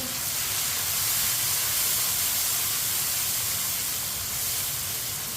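Finely chopped tomatoes and green chilies hitting a hot pan of dal and cauliflower curry make a loud, steady sizzling hiss that holds unbroken throughout.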